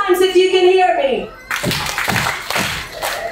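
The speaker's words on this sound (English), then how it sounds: "clap three times if you can hear me" A dance show audience claps three quick times after a brief rising vocal sound, the claps sharp and fairly loud.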